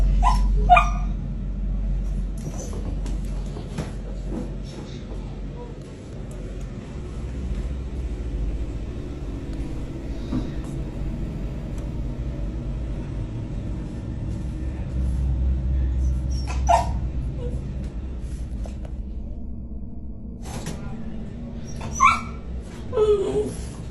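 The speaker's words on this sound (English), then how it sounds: "the woman heard her dog whimpering from a nearby room" A dog whimpers and gives occasional yips from a nearby room, faint and intermittent over a low steady background rumble, with a few sharper cries toward the end and no one talking.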